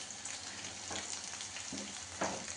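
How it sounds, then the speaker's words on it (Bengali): Potatoes frying in oil in a home kitchen, a soft continuous sizzle with a few brief clinks or stirring sounds, fairly quiet and without talk. "এরপরে আমি আলুগুলোকে ভেজে নেব।"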